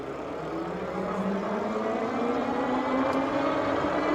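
A 52V 1000W Dukawey Silvertip8 electric fat bike motor at full throttle, a steady, continuous whir with broadband wind and road rush that holds evenly and slowly builds in strength, close and fairly loud, with no talking.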